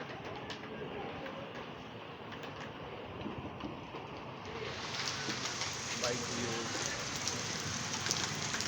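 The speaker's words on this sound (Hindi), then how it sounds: "बारिश का मनाज़र आप देख रहे हैं कितनी तेज़ बारिश है।" Dense rain patters and hisses steadily throughout in Karachi, growing a little louder and brighter partway through, with faint background sounds mixed in.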